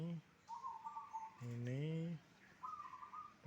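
A caged songbird sings nearby in bright whistled phrases, broken by a lower, drawn-out call with rising and falling pitch, all fairly loud and close.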